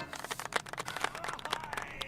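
A crowd clapping in a quick, steady patter, fairly faint and continuous for a couple of seconds, in a video game raid voice chat.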